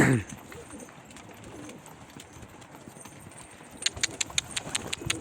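Tumbler pigeons fly overhead and land outdoors. Soft cooing and wing movement are heard, followed near the end by a quick series of sharp, close wing claps.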